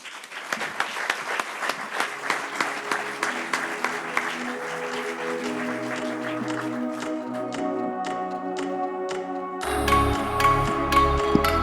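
Audience at an awards evening applauds the nominees coming on stage, brisk clapping at first that thins out while walk-on music with tones and chimes rises, then a heavier beat enters near the end.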